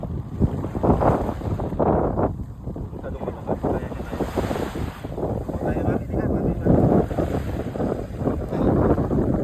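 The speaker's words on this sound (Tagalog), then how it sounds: "Ang hangin, sarap." Strong wind buffets the microphone in constant gusty rumbles, with people talking and calling out over it close by.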